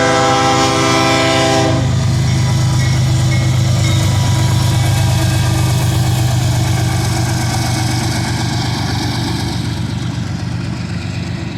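Northbound freight train of autorack cars passing close by: a loud, sustained horn blast opens, then a heavy continuous rumble and clatter of rolling cars that gradually fades.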